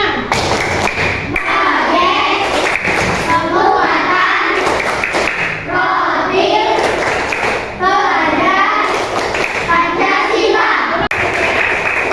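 Schoolchildren perform a rhythmic clapping chant in a classroom, voices chanting together in repeated phrases punctuated by sharp group claps and thumps.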